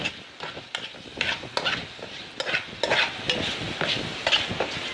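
Chipotle sausage frying in olive oil in a pan, with a close sizzle under repeated scraping and stirring strokes that come in uneven bursts and no talking.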